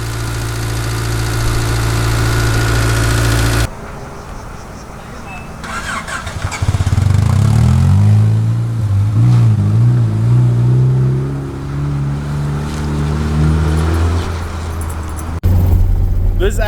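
A barn-find Honda CRX Si, its engine seized for more than ten years, runs close by with an uneven idle and revs that rise and fall, while people talk excitedly over it.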